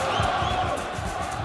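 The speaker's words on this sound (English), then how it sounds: "I recorded this crowd noise at the football" Football stadium crowd roaring in a continuous, dense wash of cheering and chanting, steady and moderately loud throughout.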